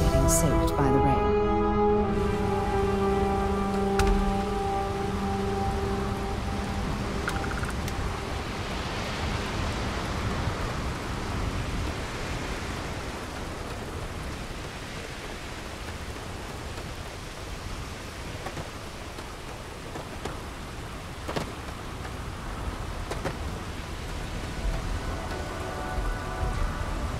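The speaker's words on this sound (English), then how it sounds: "Unless you like getting soaked by the rain." Starfield rain pours steadily in an outdoor city plaza, a dense loud hiss of falling drops with a low rumble underneath, while a voice talks briefly at the start.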